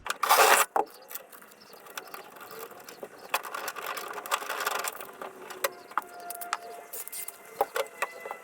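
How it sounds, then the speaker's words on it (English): Rod holders being bolted into a Quintrex 460 Renegade boat, a series of close clicking ratchet and metallic tapping sounds with a sharp loud rattle at the start, sporadic knocks and faint birds in the background. "So now I just got to bolt them both in"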